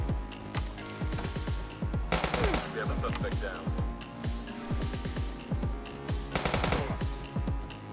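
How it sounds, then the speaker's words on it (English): Rapid bursts of automatic gunfire from a shooter video game, with repeated rattling volleys and short pauses, fairly loud throughout, mixed with game music and effects. "I'm just shooting all of them."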